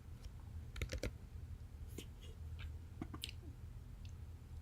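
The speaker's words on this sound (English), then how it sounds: "Clicking the button again" Faint clicks and taps on a computer come as a few scattered light presses, quiet over a low background hum, with no voice present.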